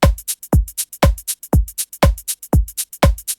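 House drum beat built with Ableton's rotating rhythm generator: a steady four-on-the-floor kick with crisp hi-hat and shaker ticks between the beats, looping evenly and clearly with no voices.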